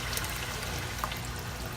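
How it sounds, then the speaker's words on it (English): Steamed-food broth is poured into a pot of Liberian collard greens, a faint, steady liquid trickle and wash against a low background hum. "Meanwhile, the broth from the stuff that I steamed, I'm gonna add this in here."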